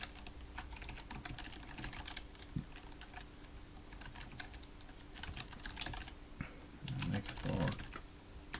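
Steady, close typing on a computer keyboard while entering terminal commands, with dense irregular clicks throughout and a brief burst of heavier keystrokes near the end.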